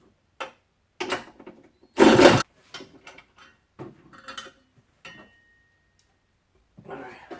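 A wrench works the 13 millimeter bracket bolts on an Audi A4 B8 during a battery replacement, giving sparse close metallic clicks and clanks with one louder rattling burst, alongside a person speaking.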